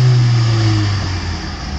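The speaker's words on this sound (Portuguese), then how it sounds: "Vou ligar o carro aqui para vocês." Engine of a 2013 Renault Logan Authentique 1.0 16v flex-fuel car, heard close and loud as a steady running hum that eases slightly, with no talk.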